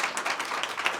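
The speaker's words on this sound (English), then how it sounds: "please give a big round of applause to Rick Courtney" Applause from an audience greeting CEO and entrepreneur Rick Courtney, a brief burst of dense, fairly faint clapping with no voices over it.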